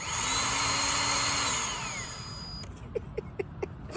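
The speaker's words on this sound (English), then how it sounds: "I have power tools, and I'm not afraid to use them." A power tool runs steadily at full speed with a high whine, winds down and stops, followed by a few sharp clicks or taps in the quiet.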